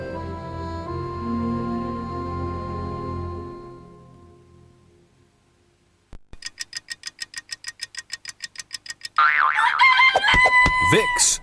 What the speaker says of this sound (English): So you don't mess about with this cockerel here.